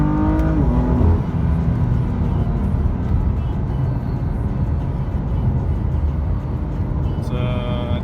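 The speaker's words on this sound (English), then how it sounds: "3rd gear, 2500 RPM, wide open throttle now." BMW M3 engine pulling at wide open throttle in 3rd gear from about 2500 RPM, a loud continuous droning roar from inside the car, steady with a rising whine and tire and road noise beneath.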